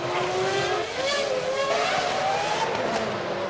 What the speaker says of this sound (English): That's a slow McLaren there, Murray.